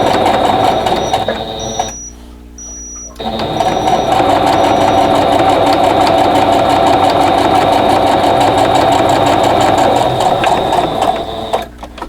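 A sewing machine runs a quarter-inch piecing seam at stitch length 2.5, a loud, fast mechanical whir that pauses briefly near the start, then stitches continuously before slowing at the end.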